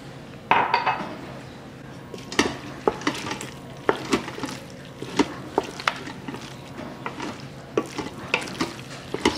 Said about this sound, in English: stir it around.